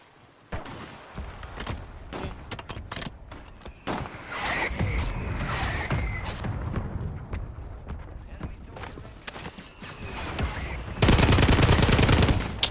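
Rapid bursts of STG rifle fire in a shooter video game, many sharp shots in irregular clusters with a loud sustained burst near the end, mixed with game effects and some talk.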